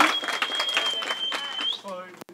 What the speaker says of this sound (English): everybody giving one more round of applause for this beautiful couple